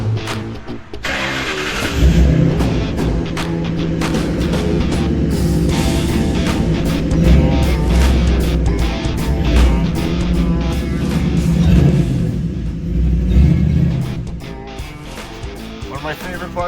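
V8 rat rod truck rumbling during a ride, a loud low engine growl that swells and surges over several seconds, heard close from on board, with people talking over it.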